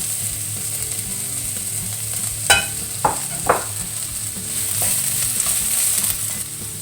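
Vegetables with grated ginger and carrot stir-frying in a pan, a constant loud sizzle with a few sharp knocks of a utensil midway and the hiss swelling toward the end.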